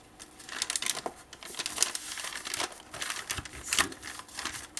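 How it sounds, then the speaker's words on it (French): Tool piercing holes through the fold of a rigid two-section scrapbooking folio, heard as close, dry crinkling and scratchy paper punctures in short irregular bursts. "Et je vais percer au travers"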